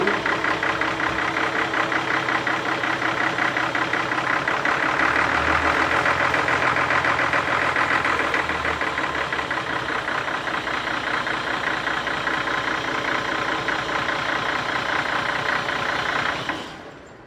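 Engine 87 years old idling very slowly at 86 rpm, a steady low rhythmic thumping and mechanical clatter running continuously up close before cutting off at the end.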